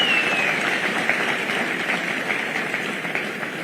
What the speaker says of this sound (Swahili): Pigeni makofi huyu Sam jamani.